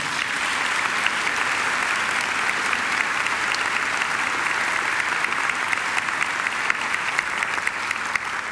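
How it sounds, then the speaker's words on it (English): A graduation ceremony audience claps in steady, sustained applause that holds at an even, full level for the whole stretch, with no pauses or voices standing out. "I think she deserves another great round of applause"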